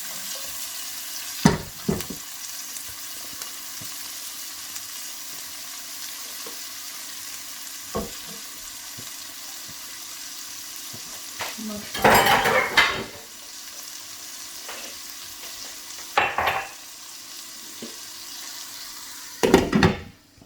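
Seeds sizzle steadily in a pan on the stove, a soft constant fry broken by a few louder bursts of stirring and scraping. Nobody speaks.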